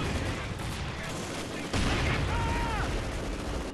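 Machine gun and rifle fire from a Company of Heroes 2 battle, Wehrmacht versus Soviets on the Lazur Factory map, forms a dense continuous clatter of battle noise that grows louder partway through, with no voices over it.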